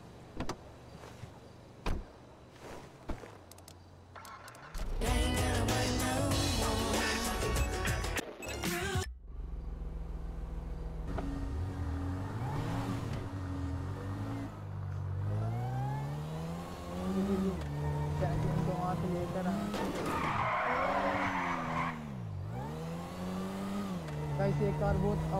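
Car in GTA 5 revving and pulling away, with a door sound and a sharp start, then a steady engine drone rising and falling through gear changes as the car drives, with someone talking over it.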